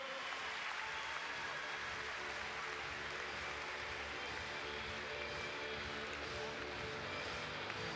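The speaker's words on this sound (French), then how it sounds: "Mais ça ne vous empêche pas d'applaudir tous ces enfants." Crowd applause for children riding ponies at an international show jumping event in Bordeaux, a steady dense wash of clapping across the whole stretch, with a voice speaking over it.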